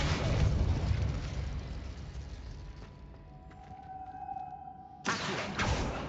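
Incendio fire spell cast in Hogwarts Legacy: a loud, broad fiery burst that roars for several seconds and fades, followed by a second sharp blast near the end, with tonal game sounds beneath.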